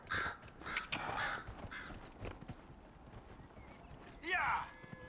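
Horse hooves clip-clop in quick rhythmic bursts in the Dragon Age Inquisition video game, with crows cawing and a horse whinnying near the end, all fairly faint.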